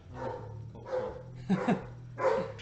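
A dog barks several times in short bursts, fairly close, over a steady low background hum.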